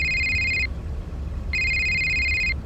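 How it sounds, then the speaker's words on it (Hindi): A phone rings in a Hindi audio story, giving two bright electronic bursts with a short gap between them, loud and close over a low background hum, with no voices. "अचानक जिंदल का फोन बजने लगा।"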